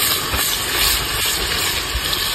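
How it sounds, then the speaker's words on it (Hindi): Onions frying in a pan over a campfire on a jungle camping trip, a steady loud sizzling hiss that stays constant and close throughout, with no talking. "ये बन रहे हैं यहाँ प्याज फ्राई।"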